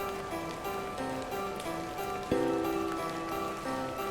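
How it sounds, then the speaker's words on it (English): Steady rain patters across muddy ground in a video game, with soft footsteps squelching through the mud underneath, a constant even wash with one brief louder knock partway through. "A 10-minute walk in the rain, in mud, in muddy ground, on muddy ground."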